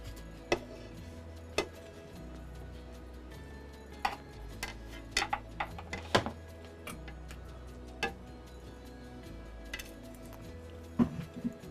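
Utensil scraping and clinking against a baking dish while tuna casserole is scooped out, a scattered series of sharp, faint clicks and taps over a quiet background.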